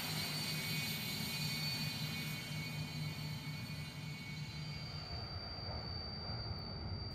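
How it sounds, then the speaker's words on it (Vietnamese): Military jet aircraft engine whines loudly and steadily on the ground at an air base, a sustained high-pitched tone over a broad roaring rumble, with no talk. "Tiếng động cơ phản lực rít lên chói tai"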